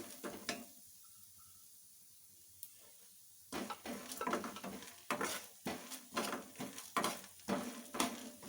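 Cumin seeds dry-roast in a pan for homemade idli sambar powder, with a repeated scraping and rattling of stirring strokes near the pan. The strokes come in quick bursts after a quiet start.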